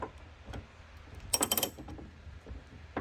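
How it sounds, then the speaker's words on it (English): A ratchet turns a 10mm deep socket on an extension to unscrew a car door handle nut, making faint, close clicking and a short burst of rapid metallic ratcheting. "what I used was a 10mm deep socket with an extension"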